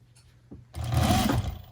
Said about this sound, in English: So now I'm just stitching a 1/2 inch seam